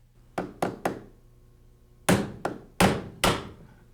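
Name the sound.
hammer tapping a putty knife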